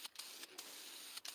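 Spray paint hisses in short bursts onto clawfoot tub shower curtain rings, several quick blasts separated by brief pauses, close and fairly steady.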